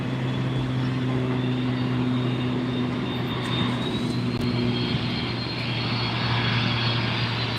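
A FedEx Boeing 767-300F cargo jet arrives at LAX airport, its engines a steady, loud, sustained roar that hums evenly without break and with no talking.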